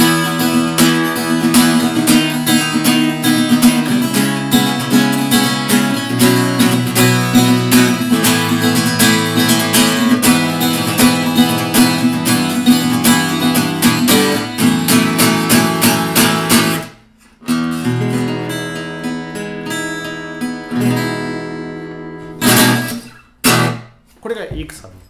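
A cheap AH1 acoustic guitar strung with Elixir strings plays a bright strummed and picked passage for about seventeen seconds, then breaks off, followed by a few sparse ringing notes and short strums.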